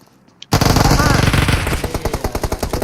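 Automatic gunfire in the mobile battle-royale game PUBG Mobile bursts in suddenly after near silence, a loud, rapid, continuous string of shots that stays steady for over two seconds.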